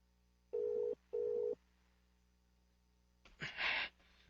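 A cellphone rings with two steady electronic tone bursts in quick succession, loud and alone, followed a moment later by a short breathy noise.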